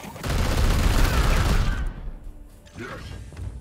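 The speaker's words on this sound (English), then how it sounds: "Opening fire." Rapid gunfire bursts in the Warhammer 40k: Chaos Gate Daemon Hunters video game, a loud dense volley lasting almost two seconds before fading into quieter mechanical clicks and a short whoosh.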